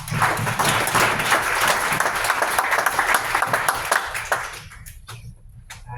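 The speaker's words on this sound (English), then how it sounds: "Let's give Travis a round of applause" A room full of people at a tech demo night bursts into brisk applause, loud and sustained for several seconds before thinning out to a few scattered claps.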